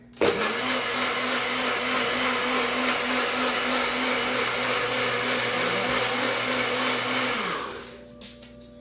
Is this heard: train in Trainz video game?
no